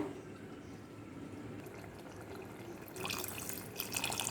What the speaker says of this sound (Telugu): ఒక అర గ్లాసు నీళ్ళు వేసుకుంటున్నాను